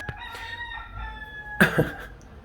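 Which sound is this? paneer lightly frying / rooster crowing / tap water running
rooster crowing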